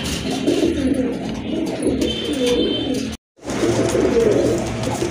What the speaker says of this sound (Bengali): খুবই অ্যাক্টিভ আর খুবই কিউট এক জোড়া কবুতর দেখার মতো